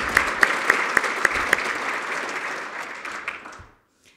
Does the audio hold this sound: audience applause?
yes